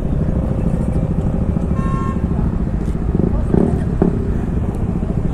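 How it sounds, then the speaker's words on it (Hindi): A large convoy of KTM motorcycles rides together on an official group ride, giving a steady rumble of engines, with a horn toot partway through and someone speaking over it. "ये देखिए कितना बड़ा काफिला है हमारी KTM का"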